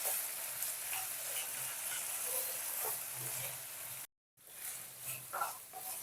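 Okra and mustard paste being mixed together in a frying pan, a steady soft sizzle with light stirring scrapes throughout, briefly cutting out near the end before resuming.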